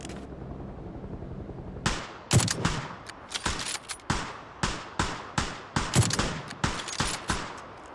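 Rapid volleys of PUBG gunfire on the Taego map, sharp bursts repeating unevenly and loudly over a low ambient hum.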